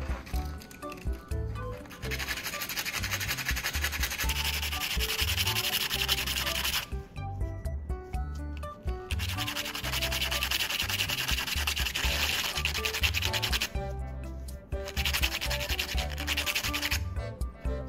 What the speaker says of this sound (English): Next, I'll grind the battery core to shape it into a fine soldering tip.